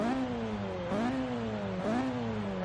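Built Mazda Miata with an exhaust mod in Forza Horizon 3, engine revving in repeated rising sweeps, a buzzy harmonic drone climbing, dropping back and climbing again, steady and fairly close with no talk.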